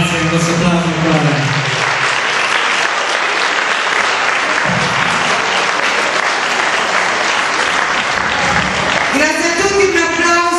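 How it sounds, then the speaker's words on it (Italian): Audience applause closing a sung salsa finale, a sustained bed of clapping that runs the whole way while someone speaks over it at the start and end. "Grazie di questo applauso ancora"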